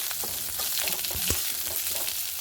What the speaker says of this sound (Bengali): শুকনো লঙ্কা, সঙ্গে দেবো কুচিয়ে রাখা পেঁয়াজ।